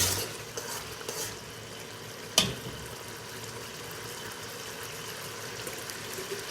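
Peanut paste stirred with a little water in a pan to make a peanut sauce, giving a steady soft scraping and sizzling texture with a sharper clack near the middle, no voices.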